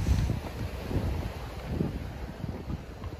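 Fresh autumn wind buffets the microphone by the sea at Cala Bona on Mallorca, a steady low rumble with gusts rising and falling throughout, with no voices.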